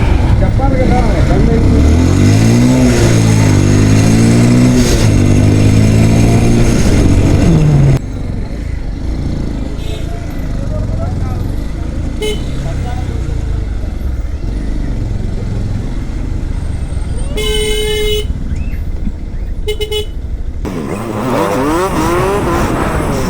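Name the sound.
traffic jam with cars, motorcycles and honking horns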